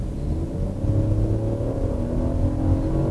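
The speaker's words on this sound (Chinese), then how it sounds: "然后我现在全油门给大家听一下" A Ford Focus 1.5 with an automatic gearbox at full throttle, heard as a steady, moderately loud low engine drone that climbs gently in pitch, with no voices over it.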